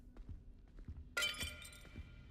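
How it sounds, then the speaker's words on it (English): Clay pots smashed in a Hogwarts wizarding video game: a sudden bright shattering crash with clinking debris, following a few soft thuds, moderately close. "he's just smashing pots."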